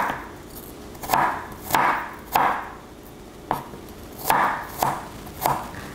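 A knife chops food into small quarter wedges, with about seven crisp, unevenly spaced chops close by and a quiet pause between each stroke. No one speaks.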